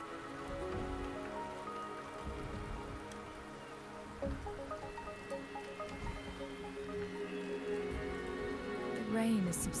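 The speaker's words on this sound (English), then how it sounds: "The rain is subsiding" Steady rain falls in the video game Wuthering Waves, a continuous hiss of drops on surfaces with some wind, holding at an even level throughout while game music or ambience plays underneath.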